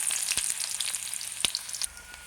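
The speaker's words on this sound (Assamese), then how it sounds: "তেল গৰম হোৱাৰ পিছত ইয়াত পিঁয়াজ দি দিলোঁ" Chopped onion sizzles steadily in hot oil in a cooker pot, a bright continuous frying hiss with a few sharp crackles, close and fairly loud, then the hiss thins toward the end.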